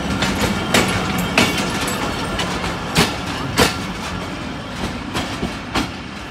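Express passenger train pulling out of a station in Pakistan, with steady rolling rumble and a series of sharp clickety-clack wheel knocks at irregular intervals as the cars pass, fairly loud and close, no voices.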